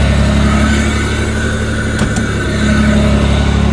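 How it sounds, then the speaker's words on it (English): A 1988 Pontiac Fiero GT engine idles with its air intake baffle removed, giving a loud, steady, low droning hum close by, with a couple of brief clicks partway through. "That's the air intake for the engine. It's loud since I took the baffle off of it."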